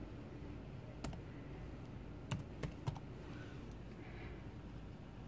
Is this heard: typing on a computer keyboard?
yes